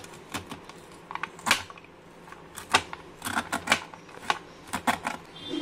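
Sharp knife slicing kernels off a fresh corn cob, heard as a series of crisp, close scraping cuts in irregular bursts with short pauses between strokes.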